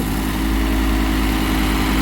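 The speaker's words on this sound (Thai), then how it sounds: "เดี๋ยวเรามาดูแมคโครเล็ก ขุดเจาะเสาไฟกันบ้าง" A small excavator engine idles at close range, a steady low rumble with an even mechanical throb running unbroken and fairly loud throughout.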